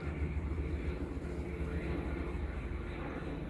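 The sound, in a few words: firefighting plane flying overhead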